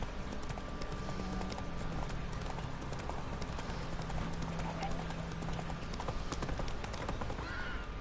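Rapid horse hooves pounding at a gallop in The Witcher 3, a continuous dense clip-clop rhythm with occasional whinnies, under game sounds and someone talking.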